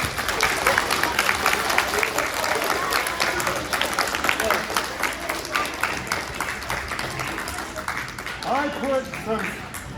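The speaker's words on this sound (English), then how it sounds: "Round of applause for Genie in the bottle" Sustained applause fills a science demonstration show after a hot genie-in-a-bottle trick, a dense, steady wash of many hands clapping at close range, with faint voices and cheers rising near the end.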